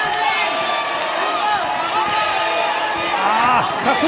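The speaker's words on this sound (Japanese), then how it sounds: "2度目の防衛戦、重岡への声援が沸き起こっています" A crowd at a boxing match roaring and cheering for boxer Shigeoka during his second title defense, a dense sustained wall of voices and whoops, with a commentator talking over it.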